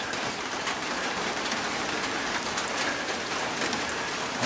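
Steady rain drums on a roof in a dense, even hiss of drops, continuous and fairly soft, with no voices.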